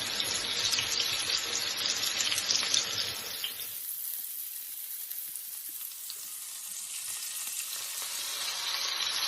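Food with leeks sizzles loudly in a hot pan, a dense crackling hiss that briefly softens midway, then builds again, close up with no voices.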